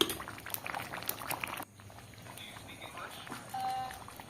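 Chicken curry gravy simmering in a pan gives soft, close bubbling and light crackles, busier at first, then quieter and more sparse, ending with a slight lift in level.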